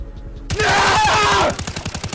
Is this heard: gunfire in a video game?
yes